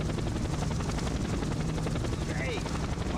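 A helicopter in the Just Cause PS2 video game roars loud and close, with a dense, steady rotor chop throughout and a brief whine near the end.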